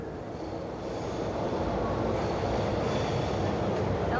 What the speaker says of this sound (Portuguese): Esta é a Estação Sé, entroncamento das linhas do metrô de São Paulo.